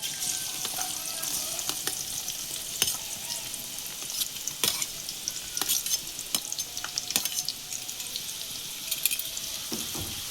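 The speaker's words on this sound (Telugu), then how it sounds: "ఆయిల్ కాగిందండి, ఉల్లిపాయ ముక్కలు అయితే వేసేసుకుందాం." Chopped onions fry in hot oil for an eggplant and chana dal masala curry, a constant crackling sizzle dotted with sharp pops and occasional spoon clicks, close and even.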